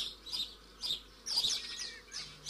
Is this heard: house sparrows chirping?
yes